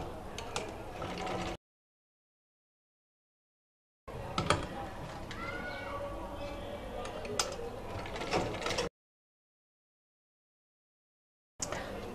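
A sewing machine stitches the side seam of a blouse sleeve, a close mechanical whirring and clicking in bursts separated by stretches of complete silence.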